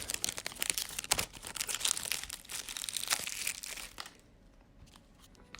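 Cellophane wrapper peeled off a Jerry's Nugget playing card box, with steady close crinkling and crackling that fades to a few quieter rustles near the end.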